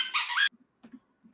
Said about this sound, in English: that's just a squeaky toy. That's not birds.